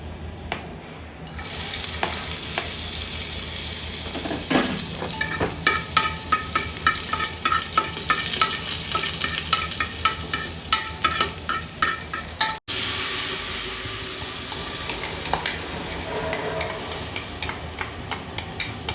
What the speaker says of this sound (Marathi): मसाला टाकला आहे आणि छान एक दोन मिनटं शिजवून घ्यायचं